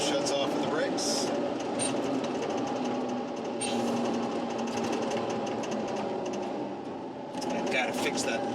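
An LMTV military truck cruises at highway speed with a steady, droning engine and road noise inside the cab, interrupted by brief clicks and rattles.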